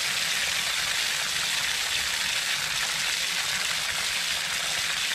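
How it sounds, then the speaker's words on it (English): Hot water pours steadily from an outdoor faucet in a continuous broadband splash and hiss, close and loud, with no talk over it. "Here's the hot water."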